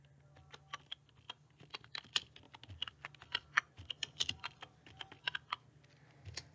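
Rapid, uneven keystrokes on a computer keyboard, close and fairly quiet, clicking steadily in irregular bursts with no talking.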